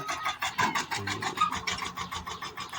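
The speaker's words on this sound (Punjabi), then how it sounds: "ਫੇਰ ਜਾ ਕੇ ਟਰੈਕਟਰ ਨਿਕਲਿਓ" Tractor engine revving hard while being pulled out of mud beside a village pond, a pulsing, rhythmic mechanical chug close by with repeated surges and no talking.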